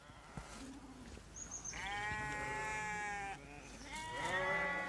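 Flock of sheep, some freshly shorn, bleating on a farm, several long wavering cries overlapping one another, moderately close over soft outdoor background noise.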